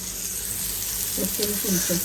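Bombil, Bombay duck fish, frying in a pan with a steady close hiss of sizzling oil, while a voice speaks briefly over it near the end.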